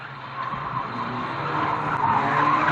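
Race cars spin and skid at Fleet Raceway during a 2005 Old Boys Meeting, giving a continuous rough roar of engines and scrubbing tyres that grows louder and slightly closer over a few seconds.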